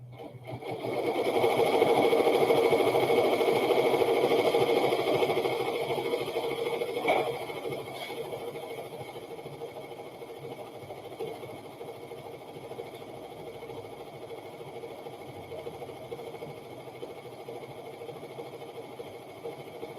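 An embroidery sewing machine stitches a burp cloth held in its hoop, giving a close, steady mechanical whir that is loudest at the start and eases to a lower, even hum. No one talks over it.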